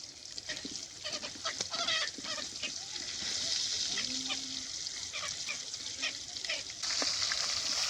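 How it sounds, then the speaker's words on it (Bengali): Pangas fish sizzles in a pan with a dense, hissing fry and frequent crackling spits, a few brief tonal squeaks cutting through the steady frying noise. "মাছটা বাজা হয়ে গেছে, আমি তুলে নেব।"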